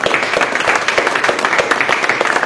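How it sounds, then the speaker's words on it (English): An audience at a chess festival panel night in Gibraltar claps for the panel in a steady, loud, continuous wash of many hands throughout. "Big round of applause for them."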